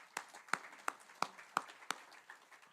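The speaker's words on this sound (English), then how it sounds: "give those two men a round of applause" Sparse, soft clapping from a small audience at a Cherokee Nation groundbreaking for a wellness center, a handful of distinct claps at fairly steady intervals, faint and somewhat distant.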